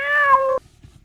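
A single clear cat meow, loud and close, with a drawn-out falling tone lasting about half a second, followed by quiet.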